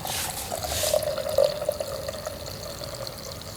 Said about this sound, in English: just pull that, and then it drains out